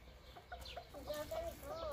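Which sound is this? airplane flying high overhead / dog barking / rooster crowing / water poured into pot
rooster crowing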